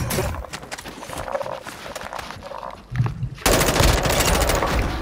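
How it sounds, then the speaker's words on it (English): Rapid automatic gunfire rattles in Call of Duty: Modern Warfare II combat, bursts of shots near and loud, dropping briefly before a dense, sustained volley takes over the final seconds. "he's trying to shoot at me."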